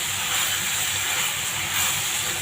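Onions and tomatoes sautéing in a pan over a lowered flame make a steady, close hiss and sizzle, unbroken for a couple of seconds.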